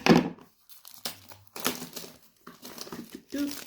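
Parcel packaging being opened with scissors during an unboxing, with bursts of crinkling and tearing plastic and paper separated by short pauses, close and fairly quiet.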